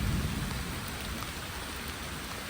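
Steady rain falls during an outdoor tea-picking outing, a dense, continuous hiss of drops pattering close by with low rumbling underneath, loud and unbroken throughout with no voices.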